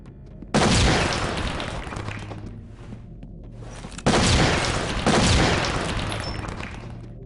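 Friendly gunfire in SWAT 4, with two loud bursts of close gunshots and rumbling impacts, each fading out over a few seconds, loud and alone without talk.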